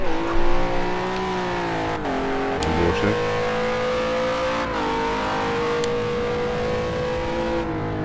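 A GT racing car on a flying lap round the Oulton Park International Circuit in a racing video game. The engine revs hard and continuously, with repeated gear-shift dips and pitch swings through corners.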